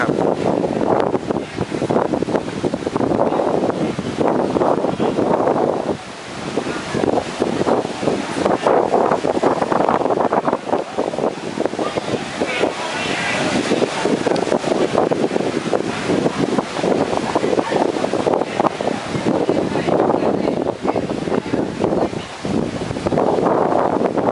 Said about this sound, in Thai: ลมแรงจริงเลยนะ